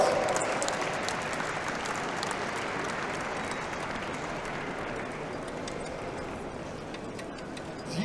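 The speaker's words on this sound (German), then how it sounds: "Euer Applaus!" A large audience at the Grüne Woche 2023 show applauds steadily for a mule team presentation, a loud continuous wash of clapping that fades slightly before a small swell at the end.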